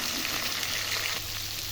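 Onion and garlic sizzling in hot oil for goat meat curry, a continuous close crackle with faint stirring.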